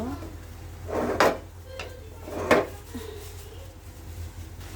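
Food being stirred in a pan while fried cauliflower is cooked, with two distinct scraping clatters of a utensil against the pan about a second apart and a softer tap between them, over a quiet kitchen background.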